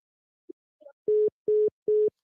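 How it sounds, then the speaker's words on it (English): A telephone line after a caller hangs up on a radio show: a few faint clicks, then three short, even beeps of a steady tone. "the caller hung the phone up"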